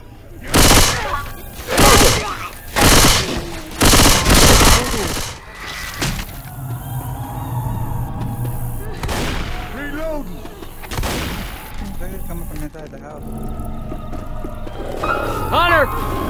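Gunfire in Left 4 Dead 2: several loud bursts of shots in the first seconds, then sparser single shots and game effects under a speaking voice.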